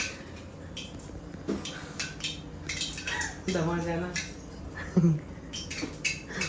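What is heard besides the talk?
scrubbing and washing new pots and utensils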